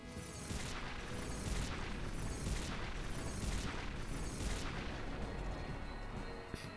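A fire gem explosion attack in Final Fantasy X HD, a dense run of roaring, crackling blasts with repeated surges, sustained and loud with no talk over it.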